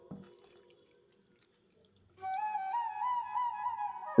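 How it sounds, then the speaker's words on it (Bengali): Chhana rinsed under a cold tap: after a quiet stretch of faint handling, a steady stream of running water starts and flows on strongly and close by until the end, with no talking. "এবার ছানাটাকে একটু ঠান্ডা জল দিয়ে আমি ধুয়ে নেবো"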